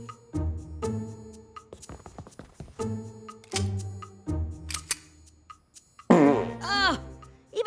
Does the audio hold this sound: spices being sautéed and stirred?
no